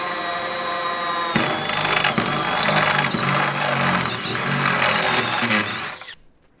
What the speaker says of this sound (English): It's called a step drill, and it allows you to drill holes really quickly through sheet metal.